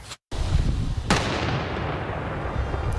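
A police bomb unit sets off a controlled detonation with a sharp, heavy blast followed by a rumbling roar. A second boom then decays into a long echoing rumble outdoors.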